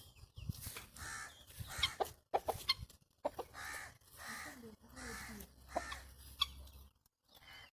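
Turkey calling among other fowl in a bird yard, a run of loud gobbling and clucking bursts in uneven rhythm close by, with someone speaking between them.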